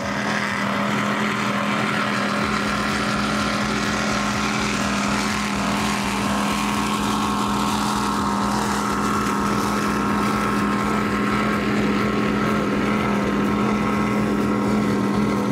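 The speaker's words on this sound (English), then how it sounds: "enjoying this 2014 48-foot MTI Mercury Racing 1350s" A 2014 48-foot MTI powerboat with Mercury Racing 1350 engines runs at the Key West Poker Run, a loud, steady, droning engine roar close by that does not let up for the whole stretch.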